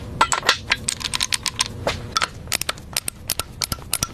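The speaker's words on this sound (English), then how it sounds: "Listen to the click. That's the sound of precision." A torque wrench tightening bearing caps on a car engine gives sharp mechanical clicks in quick, uneven bursts, close up and fairly loud, with brief metallic ticks between them and no voices.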